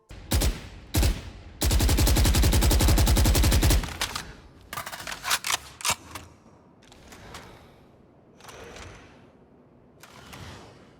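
Oni Phantom rifle in VALORANT firing short bursts and a sustained full-auto spray, then mechanical reload clicks and clacks, all close and loud with no talking.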